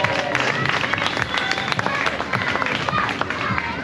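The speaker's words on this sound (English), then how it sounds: "a huge round of applause for my lovely volunteer" Audience applause for a volunteer at a street arts show in Fremantle, Western Australia, a dense spatter of claps with crowd noise running steadily for a few seconds.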